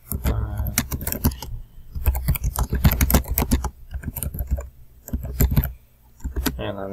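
Rapid clattering keystrokes on a computer keyboard, entering questions into a Socrative quiz screen; bursts of close typing with brief pauses, no talking.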